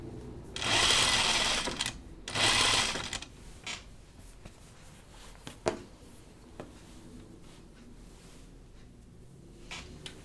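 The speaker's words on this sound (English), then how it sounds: "Making sure I don't sew the rest of the dress under there." Sewing machine stitching along a folded dress edge, two loud whirring bursts of a second or so each near the start, followed by quieter handling, clicks and fabric shuffling.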